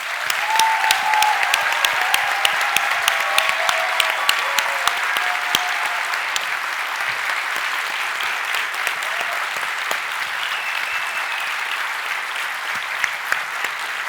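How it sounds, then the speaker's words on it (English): A large audience applauds the Imagineers at the closing of a Disney fan event, sustained even clapping that stays steady and full for the whole stretch, with a faint voice or two beneath. "So please give them the biggest round of applause"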